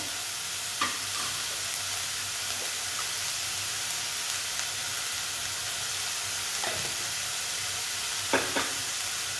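A tomato mixture for jini dosa sizzles steadily in a pan, with a constant frying hiss and occasional soft scrapes from stirring, no talk.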